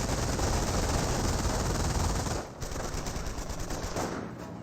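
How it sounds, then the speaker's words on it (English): Sustained, loud automatic gunfire from a Schwimmwagen firing on engineers in the Company of Heroes battle, a dense unbroken rattle that dips briefly midway before continuing. "there's the first bullet fired. It's a Shimwagen hitting the engineers"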